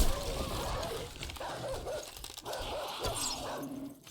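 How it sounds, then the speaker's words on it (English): A huge pack of dogs attacks in a video game, faint overlapping barks, yips and whimpers churning together at low level for a few seconds. "It's a huge pack of dogs, and they're going to tear my wall."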